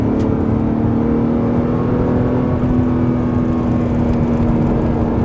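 Inside a Porsche 911 R on the move, a steady loud drone of engine and exhaust fills the cabin through lightweight rear windows, with a constant low rumble and a sustained mechanical hum and no talk.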